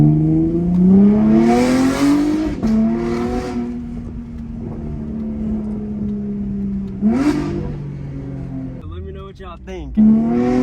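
A Chevrolet Camaro with a loud exhaust and carbon fiber paddle shifters revs and accelerates on a residential street, its engine rising and falling in pitch across several pulls. Someone talks over it near the end.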